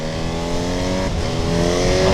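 A Honda CB1000 Hornet SP naked motorcycle with an ex-Fireblade engine accelerating, a raw, steadily rising engine note heard up close with no talking.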